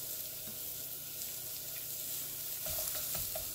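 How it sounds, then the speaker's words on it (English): Thinly sliced onion sautéing in oil in a pan, a steady soft sizzle running throughout, with a few louder scraping stirs near the end. "you're going to saute well until the onions have softened"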